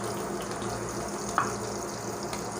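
Chopped onions fry in oil in a pan with a steady, moderate sizzling hiss, close by and without speech, with one brief clink partway through.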